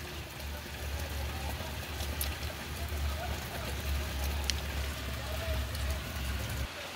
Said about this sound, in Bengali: এই যে দেখুন প্রচুর বৃষ্টি আর মেঘ